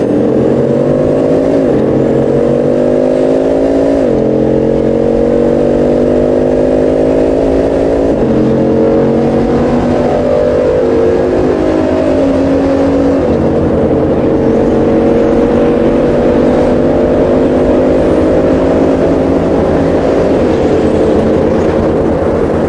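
A Bugatti Chiron drives at high speed, its engine note loud and continuous as it climbs through the gears with a drop in pitch at each shift.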